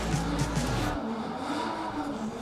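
A Nissan Skyline R34 drifts at a motorsport festival, its engine roaring loud and close for the first second before giving way to a sustained tire-screech and rumble that carries through the rest.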